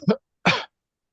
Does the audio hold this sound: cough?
yes